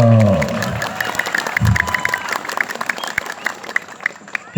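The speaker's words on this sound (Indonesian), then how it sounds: "Tepuk tangan dulu dong." Audience clapping and cheering at an Indonesian religious lecture (ceramah), a burst of applause from a sizeable crowd with scattered voices mixed in, fairly close and steady.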